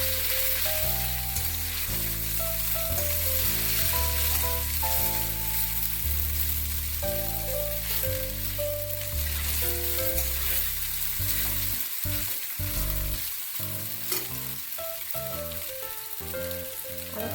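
Chicken chow mein stir-frying in hot oil, a steady loud sizzle and crackle with scraping stirs, while musical tones play throughout and the frying grows busier with spatula clatter near the end.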